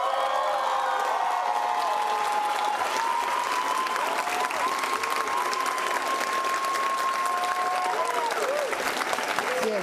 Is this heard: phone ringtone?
no